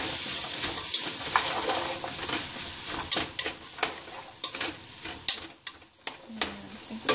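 Carrots and broccoli sizzle in a hot pan while being stirred, a continuous frying hiss broken by sharp scraping and tapping clicks of a utensil against the pan that grow more frequent toward the end.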